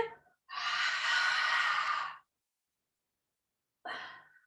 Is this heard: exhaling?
yes